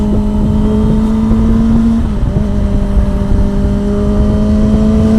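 A vehicle engine holding a loud, steady droning hum that rises slightly in pitch as it gathers speed, close and continuous throughout.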